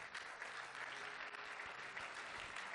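A church congregation applauding together, a dense sustained clatter of many hands at moderate distance, steady for the whole stretch.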